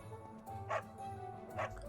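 Dog in the Fire Emblem: Three Houses video game gives two short, faint barks about a second apart over a low background hum.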